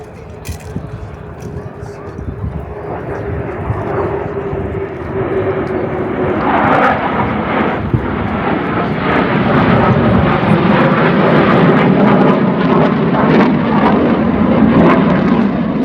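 An F-15E fighter jet's engines roar as it passes, the noise building from a distant rumble into a loud, sustained, broadband roar that fills the rest of the stretch.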